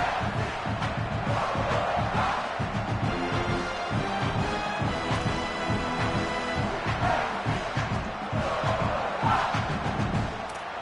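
Stadium crowd at a college bowl game in a football video game, a loud, continuous roar of cheering and yelling that swells and pulses throughout.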